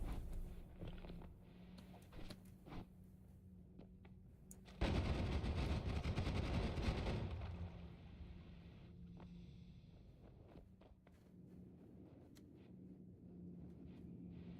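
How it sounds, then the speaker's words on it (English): Explosions in the video game Noita: a sudden loud blast with a roaring burst lasting a couple of seconds, set against steady game ambience and scattered smaller pops. "Explosion."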